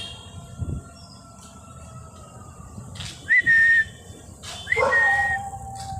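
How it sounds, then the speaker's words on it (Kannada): A dog barks from some distance in an open outdoor space, with a couple of high whining, whistle-like cries rising above low background noise. "ಅಲ್ಲಿ ನೋಡಿ ಅವನು ಅಲ್ಲಿಂದ ಬೊಗಳ್ತಾ ಇದ್ದಾನೆ"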